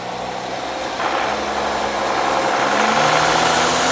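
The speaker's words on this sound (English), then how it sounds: "Now we're gonna power brake it, and we're gonna watch that." An Audi Q7 with a turbocharger underboost fault and a suspected air leak is power braked. The engine runs loud and close, its drone rising steadily in pitch and strength as the revs climb.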